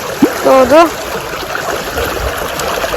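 Rainwater flowing steadily after heavy rain, a continuous rushing wash under a brief spoken phrase near the start, then running alone.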